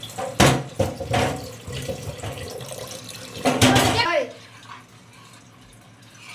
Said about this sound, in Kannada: ಇವಾಗ ನೀರು ಸ್ವಲ್ಪ ಸೇರಿಸ್ಕೊತಾ ಇದ್ದೀನಿ